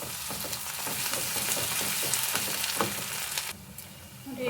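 Ginger garlic paste frying with browned onions for a soya chunk gravy, giving a steady close sizzle with faint stirring clicks that drops noticeably quieter near the end.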